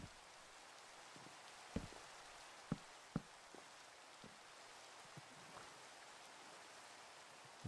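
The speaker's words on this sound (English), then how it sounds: "it's gonna start raining as well" Steady rain falls in a Minecraft world, a soft continuous hiss with a few faint sharper drips scattered through it, heard alone with no talking.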